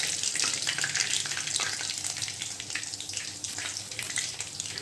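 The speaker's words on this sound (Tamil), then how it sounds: "இதே மாதிரி மீதி உள்ள சிக்கன் பீஸஸையும் நல்லா ஆயிலில் ஃப்ரை பண்ணி எடுத்துக்கலாம்." Chicken pieces for chilli chicken fry in hot oil with a dense, continuous crackling sizzle, close and steady throughout, without speech.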